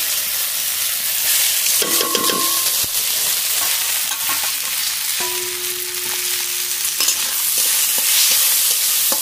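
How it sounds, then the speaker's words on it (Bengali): Washed masoor dal is stirred as it fries in mustard oil in a kadai, giving a steady close sizzle with scraping spoon strokes on and off throughout, and no talking. "ডাল একটু হালকা করে নেড়ে নেব।"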